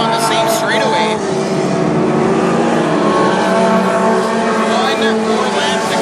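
WISSOTA modified race cars roaring around a speedway oval, a dense continuous engine drone with whining passes, under loud announcer commentary.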